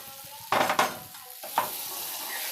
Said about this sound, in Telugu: ఇప్పుడు ఇదిగోండి ఇలా మామిడికాయ పప్పుని చక్కగా ఇలా తాలింపు వేసుకోవాలి